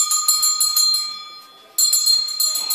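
A small bell rings in quick bursts of bright repeated strikes, fading into a brief pause and then ringing again, close and clear, with faint household sounds behind.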